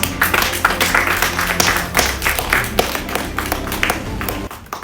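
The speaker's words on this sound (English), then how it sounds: "deserves another round of applause" Audience applause at a US-Africa trade development forum during a Black History Festival, a dense wash of many hands clapping steadily for nearly five seconds before cutting off abruptly at the end.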